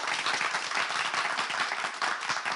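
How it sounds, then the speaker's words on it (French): A studio audience at a French game show applauds steadily, a dense wash of clapping that stays even and fairly loud throughout with no break. "Merci de les acclamer encore une fois."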